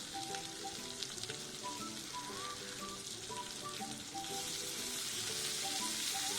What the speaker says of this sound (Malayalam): ആദ്യം ഹൈ ഫ്ലെയിമിലിട്ടിട്ട് നല്ലതുപോലെ ഒന്ന് ഇളക്കി കൊടുക്കുക.